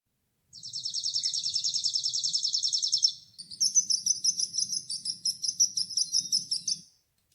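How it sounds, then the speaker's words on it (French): A bird sings a fast trill, then a second run of rapid, high pulsed notes, clear and close against silence. "Oiseau."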